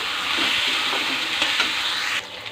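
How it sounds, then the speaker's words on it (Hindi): Onions frying with cauliflower curry sizzle steadily in a pan while being stirred, giving a continuous close hiss with soft scraping stirs that briefly fades near the end. "सब्जी के साथ ही मैं डाल देता हूँ मैं प्याज ना संगवारी हो ताकि सब्जी में प्याज अच्छे से भुंजा जाए।"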